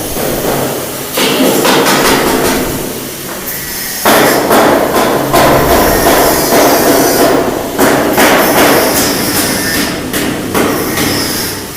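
Metalwork at a paddy threshing machine factory in Naogaon: loud, repeated hammer blows on metal in rapid bursts, with a pause around four seconds, close and dominant, without speech.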